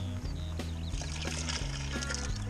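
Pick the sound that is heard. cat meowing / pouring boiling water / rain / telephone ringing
pouring boiling water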